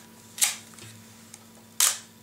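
An old thrift-store film camera fires its shutter twice, each a crisp, close mechanical click and snap about a second and a half apart, in a quiet room.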